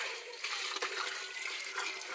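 Water sprays from a hose pipe onto homemade organic fertilizer made from ashes, fed by a booster pump, a steady hissing rush that runs throughout at moderate level with no other sounds.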